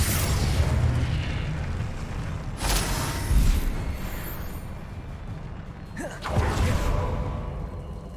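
Confringo fire explosion spells cast in combat in Hogwarts Legacy, heard as loud rumbling booms and bursts in rapid succession over a dense, continuous battle din, with a man calling out spell names.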